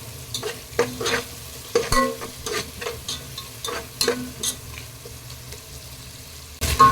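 Onions sautéing with salt in a pan for chicken biryani: a soft steady sizzle broken by repeated sharp scrapes and clinks of a spoon stirring, closing with a louder scrape, no talking.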